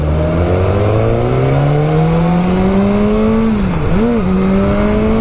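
A BMW S1000R motorcycle accelerates hard, its engine note climbing steadily in pitch, dipping briefly during a gear change, then pulling again. The sound is loud and close, with wind noise behind it.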